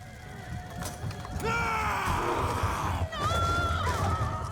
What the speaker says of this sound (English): And see the horses start a-running.